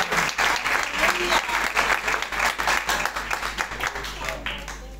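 A congregation at a church service applauding a preacher, rhythmic, loosely synchronized clapping with a low steady hum underneath and some crowd voices mixed in.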